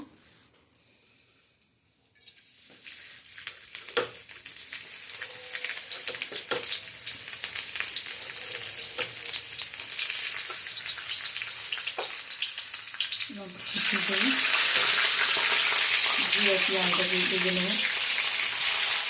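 Garlic frying in a pan for fried rice: near-quiet at first, then a rising crackling sizzle with scattered utensil taps that jumps to a loud, dense hiss late on, with a brief voice-like sound near the end.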